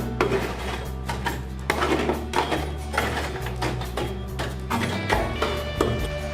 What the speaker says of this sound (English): We get a Burk or some tongs or something to push that charcoal around.